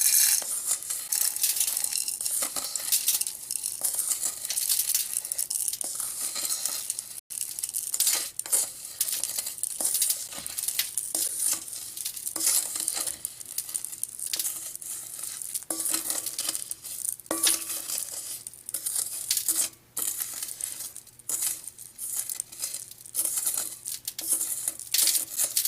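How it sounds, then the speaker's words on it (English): Aggregate mix for slurry and micro surfacing being scraped back into a bowl, a long run of gritty scraping and rattling strokes close by, irregular and repeated. "we're going to scrape it back into our bowl"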